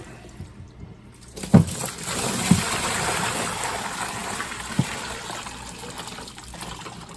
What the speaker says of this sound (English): I like to let it flood out.